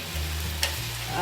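Fish frying in a pan of oil, a steady close sizzle with a low hum beneath it and a single sharp tick partway through, with no talking.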